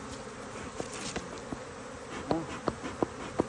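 Honey bees buzzing around an opened hive during a Layens split, a faint continuous hum with several individual bees zipping close past the listener in brief louder passes.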